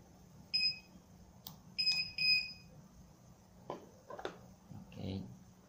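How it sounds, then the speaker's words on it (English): Electronic alarm from an RF home security system linked to a wireless bridge indoors, sounding as a few short, high-pitched beeping bursts in quick succession, followed by softer clicks and faint background noise. "As an alarm."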